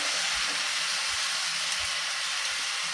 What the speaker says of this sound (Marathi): घावण सोडताना साईजने सोडायचं आणि मग छोटे छोटे घालणं करते मी